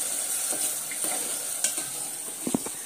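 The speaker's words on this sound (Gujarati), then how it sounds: "અહીંયા આગળ શાક વઘારી દીધું છે" Vegetables being tempered in hot oil in a home kitchen, with a steady sizzle and stirring throughout and a few sharper spoon or pan clatters near the end.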